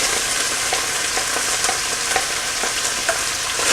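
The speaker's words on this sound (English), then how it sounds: "I'm now going to throw in the vegetables, the onion and the celery." Onion and celery fry in a pan with browning bacon, a loud, dense crackling sizzle running throughout, dotted with small pops and light clicks of stirring.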